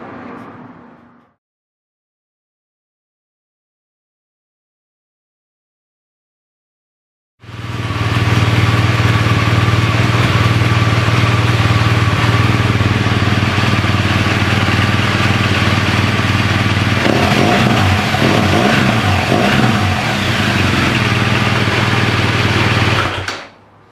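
After a few seconds of silence, a motorcycle fitted with a Remus Hexacone slip-on exhaust fires up loud and close, running steadily with a brief throttle blip near the end.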